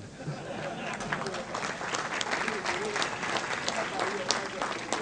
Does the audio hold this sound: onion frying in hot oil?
no